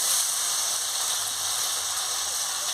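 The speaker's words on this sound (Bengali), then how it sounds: "পরিমাণ মতন হলুদের গুঁড়ো দিয়ে দিচ্ছি, দিয়ে ভালো করে কষাচ্ছি।" A spice paste with turmeric powder being fried in a pan, producing a continuous hissing sizzle at moderate loudness with a faint low bubbling underneath.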